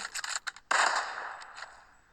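Gunfire in the mobile battle-royale game PUBG Mobile: a quick string of sharp shots, then one louder blast followed by a fading tail and a few lighter pops.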